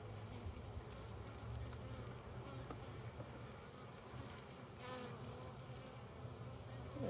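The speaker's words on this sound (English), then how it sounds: "Those beautiful bees." Honey bees swarm around a Flow hive, giving a faint, continuous buzzing drone with occasional louder passes of individual bees close by.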